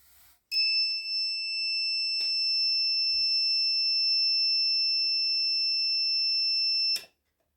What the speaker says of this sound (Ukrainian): зараз я вимкнула перетворювач, тому що він пищав